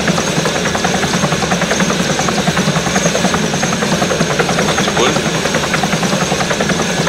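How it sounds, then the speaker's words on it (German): Loud helicopter in flight heard from inside the cabin during a climb, a steady dense rotor and engine roar with rapid rhythmic blade pulsing throughout, continuous and close. "weil der Helikopter sehr laut ist."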